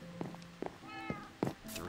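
Cats in the Minecraft game meow several times in quick succession, short mid-pitched cries over a quiet background with a faint voice mixed in.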